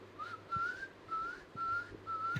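A person whistles from the throat in a breathy, thin tone, producing five short rising whistles in an even rhythm, close and clear over a faint low hum.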